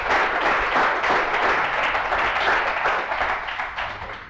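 An audience at a homebrewing competition awards gala gives steady, dense applause that continues evenly throughout and tapers slightly near the end.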